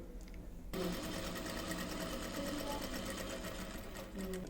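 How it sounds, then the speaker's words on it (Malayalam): A sewing machine stitches a frock, its steady motor whir and rapid needle clatter starting abruptly after a brief quiet moment and running continuously at close range, with no talk over it. "ഇനി നമുക്കിത് സ്റ്റിച്ച് ചെയ്യാം."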